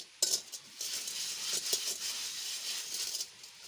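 Scrubbing a sooty kadai (wok), with scratchy metallic scouring strokes and occasional clinks, close and moderately quiet, repeating in irregular bursts.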